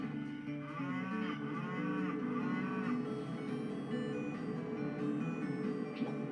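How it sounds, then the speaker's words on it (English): Cow mooing in the Thomas and Friends V.Smile game, a clear drawn-out moo followed by another, set against steady game music and noise at moderate loudness. "Goodness to me, we got three sheep and one cow."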